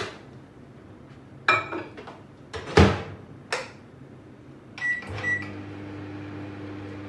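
Microwave oven used to roast chopped dry fruits in a glass bowl: a few door and panel clicks and knocks, then button beeps, followed by the low steady hum of the oven starting up.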